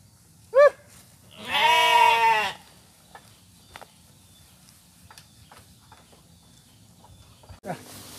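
Sheep bleat twice, a short call followed by a longer wavering one, close and clear, with faint rustling and a few clicks afterward and a sudden thud at the end.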